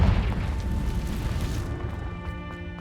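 A Confringo fire spell explodes in the Hogwarts Legacy video game, a loud booming blast at the start that rolls into a lingering rumble with ringing magical tones as it fades.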